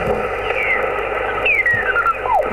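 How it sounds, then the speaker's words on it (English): Morse code tones received on an amateur radio transceiver, faint whistling beeps drifting in pitch over a hissy, crackling band, with no talk. "Oh, some Morse code right there."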